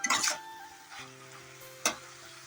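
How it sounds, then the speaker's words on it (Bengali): A dried-fish curry cooks in a pan, giving a faint frying hiss under a low steady hum, with a few short stirring scrapes at the start and one near the end. "তরকারি বসিয়ে দিয়েছি শুকনো মাছ দিয়ে রান্না করছি"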